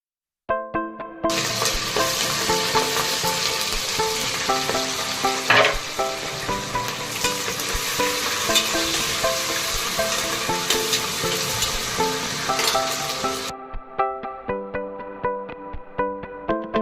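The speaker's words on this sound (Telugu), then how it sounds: "పచ్చిమిర్చి, మనం కట్ చేసుకున్న ఉల్లిపాయలు వేసుకొని దోరగా వేయించుకోవాలి" Green chillies and chopped onions fry in ghee and oil in a cooker, a loud, steady crackling sizzle that starts abruptly, continues for about twelve seconds, then drops to quieter popping.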